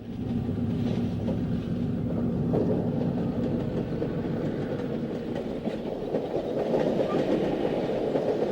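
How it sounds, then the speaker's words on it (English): An eastbound Wabash Railroad freight train passes, with rumbling rolling wheels and a steady clickety-clack of cars over rail joints, fairly distant and moderately quiet throughout. "Emery's camera caught some classic action shots of two eastbound freights between Romulus and Oakwood Yard."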